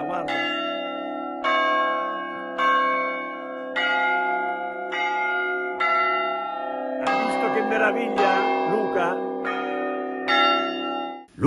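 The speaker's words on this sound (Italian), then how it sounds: "Guarda, e ha anche suonato questa campana," A church bell in Agnone, Molise strikes about eight times at a slow, steady pace, each loud ringing peal overlapping the long hum of the one before, with a brief burst of background clatter partway through.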